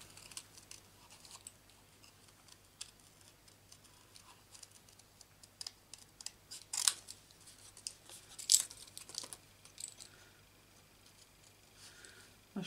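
Quiet scissors snipping through card, scattered crisp cuts and clicks spaced irregularly, with two louder snips standing out midway; no talking.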